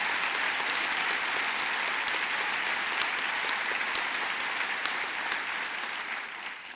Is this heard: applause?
yes